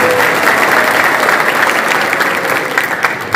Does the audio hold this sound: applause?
yes